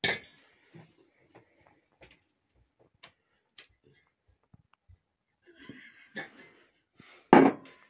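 Scattered metallic clinks and taps of a pot and lid sound at irregular intervals in a kitchen while making minced-meat börek, ending with a louder clank, with brief talk partway through.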